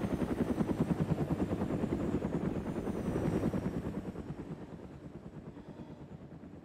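A helicopter's rotor thumps in a steady rapid pulse in the video game DayZ Mod, loud at first and then gradually fading as it passes overhead into the distance.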